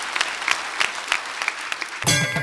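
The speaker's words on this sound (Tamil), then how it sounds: "லக்ஷ்மி நாராயணுக்கு மிகப்பெரிய கைத்தட்டல்" An audience claps for Lakshmi Narayan in a short burst of applause that ends abruptly around two seconds in, followed by a sudden different sound.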